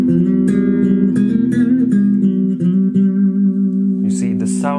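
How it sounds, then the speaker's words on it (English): Clean electric guitar notes ring out with sustained chords and single plucked notes, bright and undistorted, close and steady. "By default, a guitar may sound something like this."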